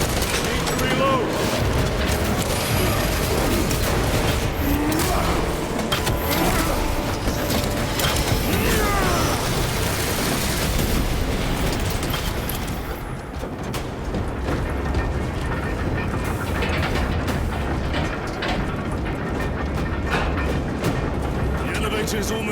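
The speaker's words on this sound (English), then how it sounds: "The elevator is almost here." Heavy mechanical grinding and clanking of an elevator arriving in Warhammer 40,000 Space Marine 2, a loud continuous roar mixed with distant gunfire-like bursts that eases slightly partway through, with game voices talking over it.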